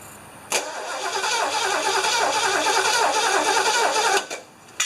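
A 1975 Lincoln Continental engine cranks briefly, catches and runs with a loud, steady roar for several seconds, then drops back toward a lower sound.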